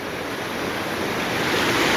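Rushing water of the South Clackamas River by an old water-works diverter dam, a loud, continuous roaring wash heard close up with nothing else over it.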